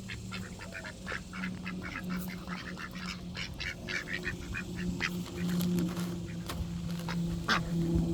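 Ducks quack and honk near and far while being fed sunflower seeds outdoors. Their calls come in frequent overlapping bursts over a steady low background rumble.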